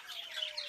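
Young budgerigar chicks in an aviary giving brief high chirps and squawks, a quick cluster of thin calls in a very short moment, fairly faint.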